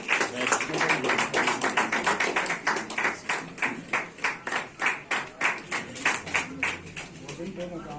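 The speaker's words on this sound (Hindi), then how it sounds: "आप लोग तालियां बजाते रहिए" A crowd at a Brahma Kumaris media workshop claps in steady rhythmic unison, loud and continuous and slowly fading near the end, while a voice speaks over the first part.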